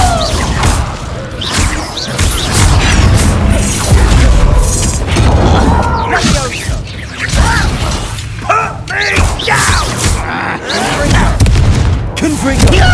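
Confringo blasting spell from Hogwarts Legacy detonating amid a chaotic fight, with repeated loud booms, crashes and whooshing bursts over about thirteen seconds, mixed with voices and dense combat noise.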